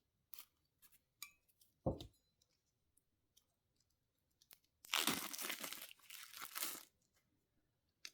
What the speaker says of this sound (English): Opening up Morka's cards